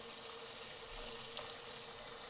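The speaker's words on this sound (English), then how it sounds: "we're gonna add some water" Tap water runs steadily into a bowl of fresh cherries to clean them, a continuous soft hiss and splash at moderate distance with no voices.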